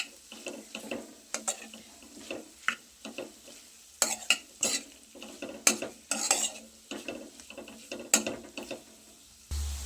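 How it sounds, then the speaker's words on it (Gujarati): A spoon stirs spiced kakoda (spiny gourd) sabji in a pan, producing irregular scraping and clacking strokes over a faint sizzle, close and fairly quiet, with no talking. "એટલે આ રીતે એકવાર મિક્સ કરી લઈએ. કંકોડા ઉપર સરસ રીતે મસાલો કોટ થઈ જશે."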